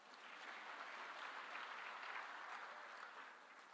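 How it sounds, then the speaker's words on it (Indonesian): A church congregation applauding after a sermon, a steady wash of clapping from many hands that stays even for several seconds, heard at a distance and fairly faint, with no voices over it. "Tepuk tangan kayak apa gitu."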